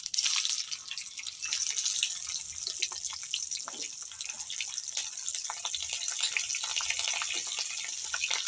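Bay leaf, black cumin and green chilli frying in hot oil as a tempering for a rui fish and kakrol curry, giving a steady, dense, high-pitched crackle and sputter throughout.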